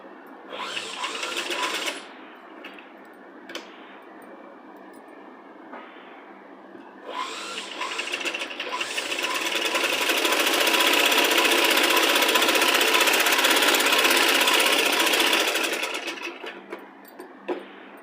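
A sewing machine stitches a children's Punjabi dress top, its needle motor whirring in short runs before settling into a long, steady, loud buzz that tapers off near the end, with no talking.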